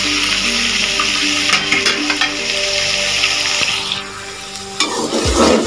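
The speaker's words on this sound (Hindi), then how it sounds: "हमारा दूध तकरीबन अब बॉयल हो चुका है" Milk boiling in a pot on the stove, a steady frothy bubbling and hissing that holds throughout with brief clinks and shifts near the end.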